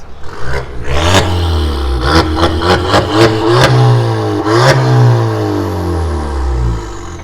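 A Seat Leon FR 1.4 with a full aftermarket exhaust and tuned software, in loud mode, revs hard in a string of sharp blips and pops, then holds a loud droning rev, close and alone.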